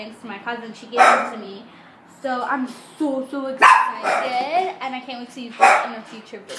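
A pet dog barks in short yapping bursts indoors, several sharp barks and yips scattered through the clip, mixed in with someone talking close by.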